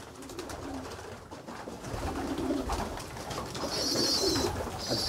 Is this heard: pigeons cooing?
yes